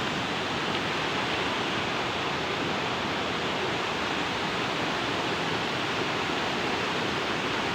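Tagbibinta Falls, a steady broadband roar of falling water that fills the scene continuously and evenly, with no voices heard.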